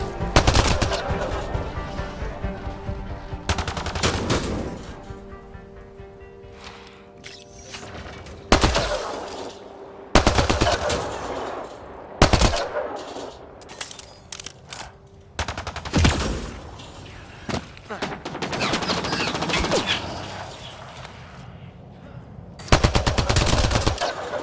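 Rapid bursts of automatic gunfire from the video game Mass Effect Andromeda, loud and close, arriving in repeated volleys separated by short lulls, with a voice briefly speaking in between.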